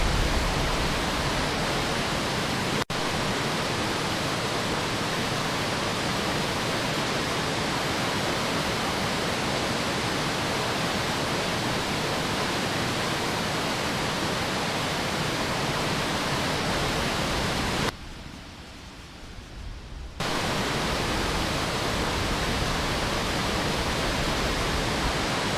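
Rushing floodwater in a disaster surges past submerged cars as a steady, dense, loud roar that fills the whole clip, with one brief dip in intensity near the end.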